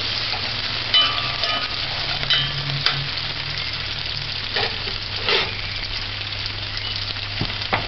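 Onions sauté in a pan for corned beef stew with a steady, fairly loud sizzle. Occasional spoon scrapes and taps break it up over several seconds.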